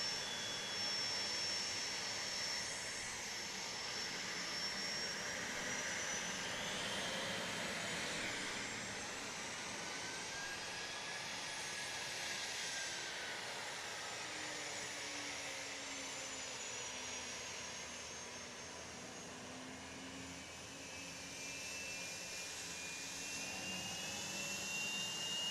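A Southwest jet airliner passes at Dallas Love Field, a steady loud broadband roar with shifting whine that swells and fades over about twenty-five seconds, with no talking.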